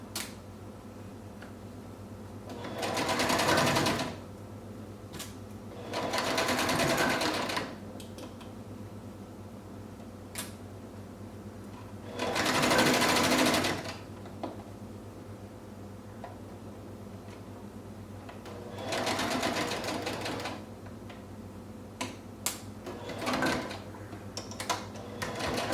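A sewing machine stitches a strap onto a fabric face mask in four or five short bursts of a few seconds each, separated by quiet pauses with light ticks and handling sounds, close and moderately loud, with no talking.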